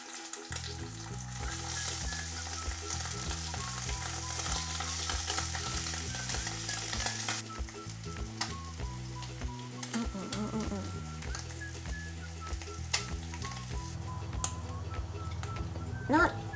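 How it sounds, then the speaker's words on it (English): Vegan bacon fries in a pan with a steady, close sizzle and crackle, mixed with stirring sounds and faint background music. "we're gonna just fry off some of the meat first"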